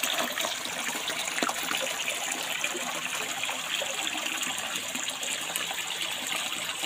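Clear, abundant spring water flowing steadily at a village bathing place, a continuous close rushing splash with no talk over it.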